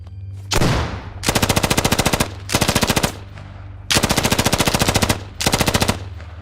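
SAW machine gun firing in the video game Squad: loud, close bursts of rapid automatic fire, about six in a row separated by short pauses, with a distinct opening shot.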